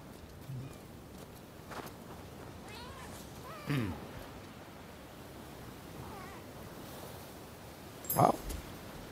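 A cat meows a few times in the video game Rise of the Ronin, short faint cries spaced apart over soft ambient noise and light footsteps.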